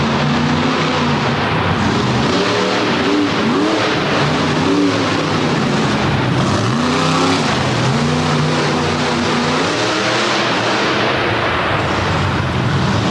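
A monster truck at an arena show roars loudly and continuously, its engine revving up and down in repeated surges that are heavily distorted and fill the whole stretch.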